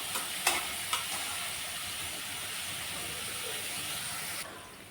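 Onion sautéing in oil in a pan on medium heat, a steady even sizzle and hiss with a couple of light utensil taps near the start, fading at the end.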